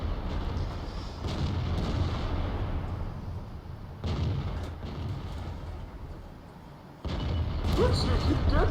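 Tank cannon fire in a tank video game, with a Centurion tank nearby, lands as three heavy booms spaced a few seconds apart, each followed by a rumbling decay, over a low engine drone.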